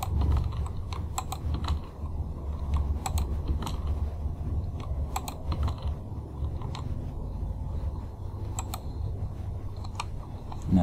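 Keys tapped on a computer keyboard while copying and pasting into a spreadsheet, with scattered clicks and short bursts of keystrokes over a steady low hum, close and moderately quiet.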